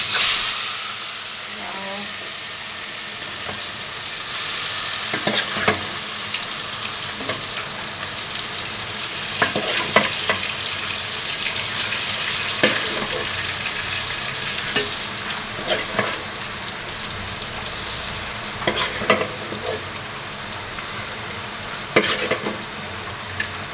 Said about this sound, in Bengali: এবার গরম তেলে দিয়ে দিব।